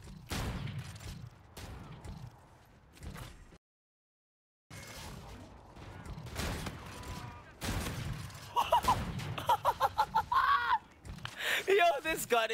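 Proteus rifle gunfire in a Call of Duty: Infinite Warfare hardcore match, sharp bursts and rapid shot volleys coming in clusters with brief gaps and a silent stretch, mixed with game effects and a voice talking.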